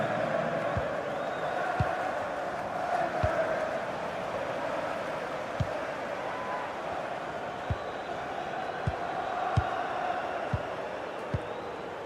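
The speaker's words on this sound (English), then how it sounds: "listen to that. You can sense how annoyed the crowd are." A stadium crowd in the EA Sports FC 26 football video game gives off a steady, restless murmur and low roar throughout, with sharp ball-kick thuds popping out at intervals over the continuous din.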